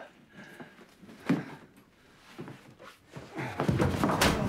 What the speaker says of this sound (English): Open the door, Hump